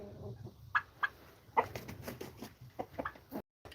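A blind turkey kept apart from other birds gives a series of soft, irregular clucks and short calls close by, faint and sparse against a quiet background.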